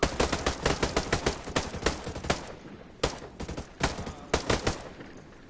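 Rapid bursts of close, loud automatic gunfire in Ghost Recon Breakpoint, a dense rattling volley with short pauses between strings of shots.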